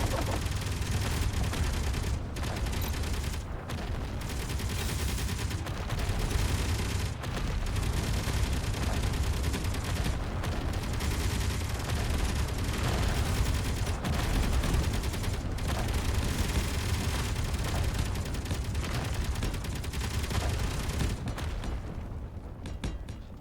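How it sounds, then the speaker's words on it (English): Video game turrets fire in a dense, continuous barrage of rapid shots, loud and unbroken for over twenty seconds with only brief dips before tapering at the end, no talk over it. "Nice work, turrets! Stop shooting."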